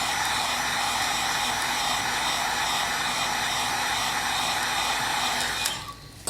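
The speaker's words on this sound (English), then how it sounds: "just dry it with the hair dryer or let it dry naturally" Hair dryer blowing on freshly dabbed leather dye on a leather jacket, a loud steady whooshing hiss and motor hum that runs unbroken before cutting off near the end.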